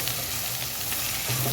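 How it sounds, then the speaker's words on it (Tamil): Onions frying in a pan for a drumstick thokku, a steady close sizzle with low hum throughout, no talking. "நல்லா கொஞ்சம் நல்லா ஃப்ரை ஆகணும் வெங்காயம்."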